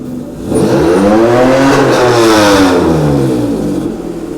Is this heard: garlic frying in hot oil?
no